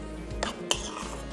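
Boiled potatoes dropped into a pan of boiling milk while cooking potato qeema parathas, giving a few close clattering knocks of utensil against pan over a steady bubbling hiss.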